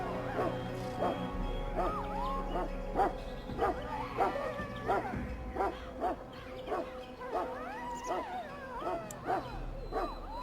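Mabari warhound in Dragon Age: Origins making repeated short barks mixed with whimpers and yips in an uneven rhythm, fairly close, with faint background ambience.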